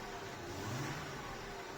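A Jaguar car engine runs steadily at low revs with foot on the brake while each gear is engaged after a gearbox rebuild, a smooth, even hum with a slight rise in pitch partway through, no voices.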